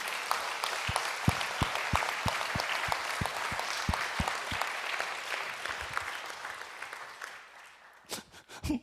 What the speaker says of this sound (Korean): 우리 하나님께 영광의 박수를 보내